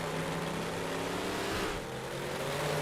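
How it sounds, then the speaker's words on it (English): A Big Block Modified race car engine in a racing simulator series, a loud steady drone with shifting pitch that holds throughout and changes only briefly midway. "You may not be able to hear me over his engine."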